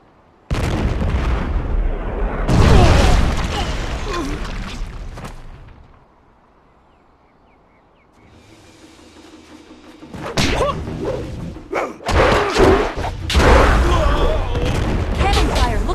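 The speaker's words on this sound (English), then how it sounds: "Cannon fire, look out!" Heavy cannon blasts from a battle in the video game Jade Empire, loud booming bursts in two stretches around a quieter lull, with game voices mixed through.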